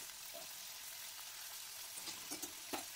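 Paneer frying in oil for dhaba-style chilli paneer, a faint steady sizzle with a few soft clicks near the end.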